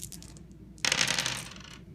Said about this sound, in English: I've got a 12 on my dice that I just rolled.